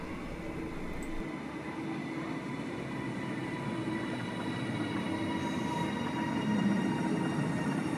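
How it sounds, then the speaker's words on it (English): A train rumbles steadily into a station, with a low mechanical roar and faint wheel squeal, drawing closer without any voices. "And here comes my train"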